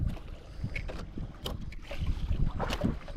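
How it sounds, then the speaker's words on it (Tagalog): Wind buffets the microphone in strong, uneven gusts over water while fishing from a boat, with the boat's low rumble running steadily underneath. "Lakas ng hangin."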